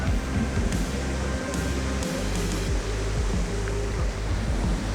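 Krung Suri waterfall in Meghalaya, India, a continuous broad rushing roar of falling water, steady and fairly loud throughout.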